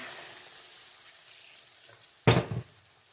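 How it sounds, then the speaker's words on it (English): A quiet hiss, then a brief loud splash and sizzle as water is poured over browning pork chops in a hot pan on medium heat, fading quickly. "They've browned up pretty good. You don't want to burn them. I put them on probably a medium heat. And then you pour water over them."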